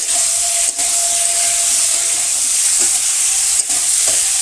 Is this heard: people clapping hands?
no